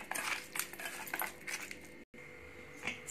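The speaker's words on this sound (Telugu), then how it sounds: "వీటిని మొత్తం చికెన్కి పట్టేలా జస్ట్ కొంచెం మిక్స్ చేసుకోవాలి" Chicken pieces being tossed and mixed with spices for curry in a metal bowl or pan, giving close, busy clinks and wet scraping, steady with a brief pause near the end.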